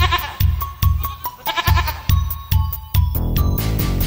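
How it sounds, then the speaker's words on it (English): Sheep bleating in a nursery-rhyme setting, a series of loud, wavering bleats repeating about every half second over a bouncy musical backing, with the calls becoming denser near the end. "Little Bo Peep fell fast asleep and dreamt she heard them bleating"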